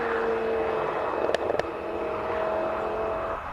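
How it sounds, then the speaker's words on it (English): A BMW diesel race car at a hill climb drones past, its engine a steady mid-distance roar with a couple of sharp clicks midway, carrying on without speech. "That's the BMW diesel."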